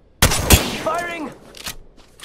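Gunfire in the Apex video game: a sharp shot and a quick second blast, then a whirring, tonal weapon or ability sound and a few fainter impacts, close and fairly loud.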